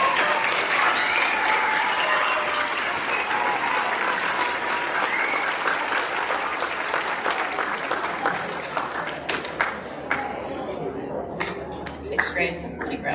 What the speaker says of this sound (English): Can we give a round of applause to Hannah